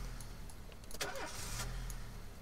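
A car engine starts in the police management game This Is The Police: a brief cranking whir, then a short rising catch, over a quiet low hum.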